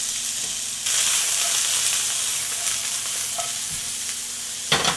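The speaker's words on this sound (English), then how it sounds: "Onions go into the pan." Onions hit a hot frying pan and break into a loud, steady sizzle that carries on close and continuous, with a brief clatter of the pan near the end and no voices.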